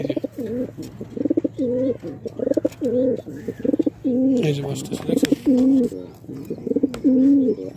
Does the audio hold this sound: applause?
no